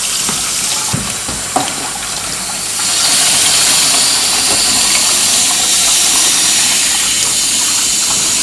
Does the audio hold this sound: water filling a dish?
yes